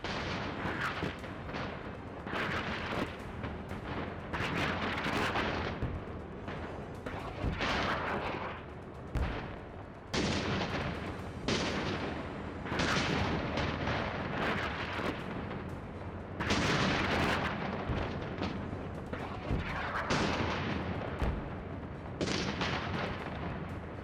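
A relentless Soviet artillery barrage at the Battle of Kursk: heavy booms and blasts fire one after another for the whole stretch, dense and loud with hardly a pause.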